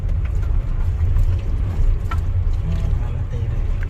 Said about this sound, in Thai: เวลาทำรถเสร็จแล้วเราก็ลองรถกันนิดนึงนะครับ